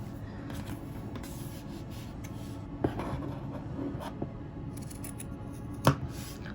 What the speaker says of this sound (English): grab my scissors. And I'm just going to cut all my strings right here